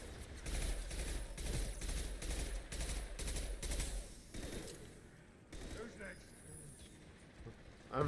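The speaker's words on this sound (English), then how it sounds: "I'm just gonna stop shooting at that guy because I'm not hitting anything with this SMG." Rapid bursts of submachine-gun fire from a video game shooter, Mass Effect, rattle in repeated volleys for about four seconds, then die down to quieter game noise, with talk over the action.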